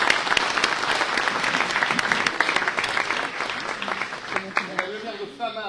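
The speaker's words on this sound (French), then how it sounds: "Je vous demande de bien vouloir l'applaudir." An audience claps steadily for the president of a mayors' association at a mayor's New Year address, dense applause throughout that thins toward the end, where a voice begins speaking.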